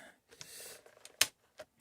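The cloth focal-plane shutter of a Graflex Speed Graphic 4x5 camera is wound by hand, giving soft close ratcheting clicks and one sharp snap midway, quiet and alone.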